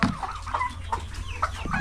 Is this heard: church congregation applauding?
no